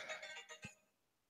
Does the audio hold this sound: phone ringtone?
yes